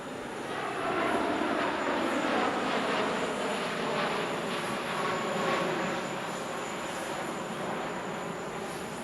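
A re-engined Boeing 777 airliner in a flying display roars steadily overhead, a broad continuous engine rumble with a whining tone that swells and slowly fades, with no talk.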